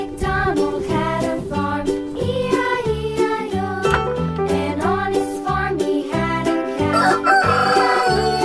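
A rooster crows and chickens cluck at a chicken coop, the calls repeating in a lively, close pattern with a bright musical backing beneath them.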